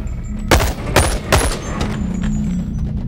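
Three sharp gunshots from a handgun in the VR game Boneworks, evenly spaced about half a second apart, loud and close, followed by low room hum and faint background noise.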